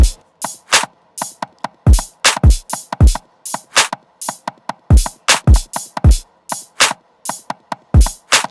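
A short wooden knock sample in a trap track, hand-played with a heavy swing, sits among crisp, tightly spaced drum hits and deep booming kicks, all loud and punchy.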